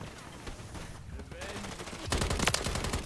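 Bursts of automatic gunfire from Call of Duty Modern Warfare 3 online multiplayer, a dense rattle that swells loudest toward the end, with faint speech mixed in.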